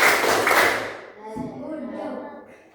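Schoolchildren in a classroom doing a rhythmic clapping chant, a loud burst of claps that quickly fades, followed by voices chanting and talking.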